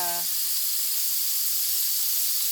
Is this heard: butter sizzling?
yes